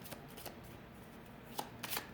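Tarot cards are riffled and shuffled by hand in quick, papery bursts, several close flutters with a sharper snap near the end, heard up close with no talking.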